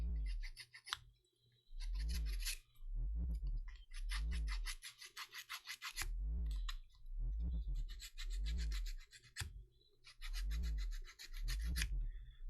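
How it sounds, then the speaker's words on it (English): Hand polishing of a tight axle shaft for an SCX10-II RC crawler axle with spools: rhythmic rasping strokes, each burst lasting about a second, repeating steadily with short pauses between, close and fairly loud with no talking. "So we'll be doing some polishing."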